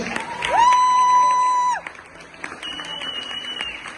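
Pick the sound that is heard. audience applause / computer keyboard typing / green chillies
audience applause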